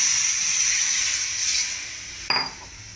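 Amla juice and oil boil together in a pan with a bright, steady hissing sizzle that fades somewhat, then a sudden clink and a burst of louder spattering near the end.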